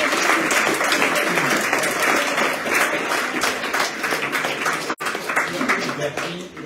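An audience at a lecture on why the planet is being destroyed claps for the lecturer in a dense, sustained round of applause that lasts several seconds, with voices mixed in.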